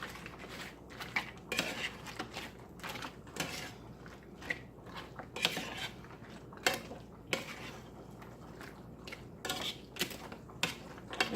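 A spoon mixes black beans into a chicken dish in a pot, giving repeated light scrapes and clinks of metal against cookware in an irregular rhythm, close and fairly quiet.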